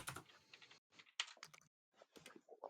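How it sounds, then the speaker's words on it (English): Quiet typing on a computer keyboard, bursts of quick key clicks separated by short silent gaps, close and faint with no voices. "Now you get to hear all the typing too."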